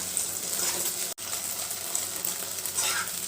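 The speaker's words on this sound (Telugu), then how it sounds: "మనం బీట్ చేసి పెట్టుకున్న ఎగ్గును యాడ్ చేసుకోవాలి. ఇలా కలుపుతూ ఫ్రై చేసుకోవాలి." Beaten egg stir-fried in a pan for egg rice, a continuous close sizzle with scraping stirring strokes and one brief dropout, no voices.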